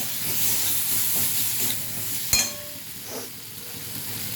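Fish with meat masala being stirred in a pan for Bengali sankar macher kosha, a steady soft sizzle with scraping stir strokes and one sharp clink of utensil on pan midway, no voices.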